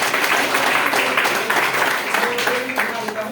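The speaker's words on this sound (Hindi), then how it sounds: "एक बार ताली हो जाए।" Participants at a one-day health workshop training program in Ludhiana burst into applause, a short round of fairly dense clapping from a modest-sized room, with a voice briefly audible among it.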